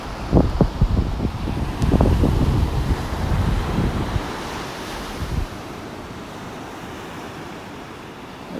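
Surf breaks on a Gulf beach in North Naples, Florida, with several heavy wave crashes early on giving way to a steady wash, all mixed with gusty wind buffeting the microphone.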